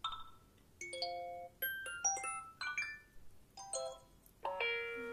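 New phone alert tones from iOS 7 on an iPhone 5, a run of bright chiming electronic notes in short melodic bursts with gaps between them, clear and alone.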